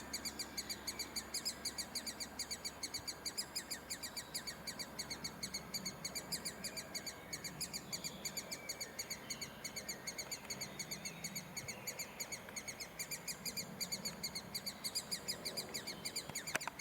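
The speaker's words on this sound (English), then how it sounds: "Probably woodpeckers." Young woodpeckers call steadily from a nest in spring woodland at a nature park in Kent, a continuous, faint chorus of rapid chirps from mid-distance over soft outdoor ambience.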